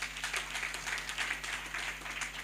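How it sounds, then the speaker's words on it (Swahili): A church congregation applauding its intercessors during a Sunday service, a steady patter of many hands clapping at a distance, fairly faint and continuous throughout. "Tuwapigie makofi tena."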